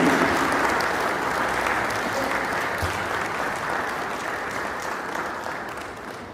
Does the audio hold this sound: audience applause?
yes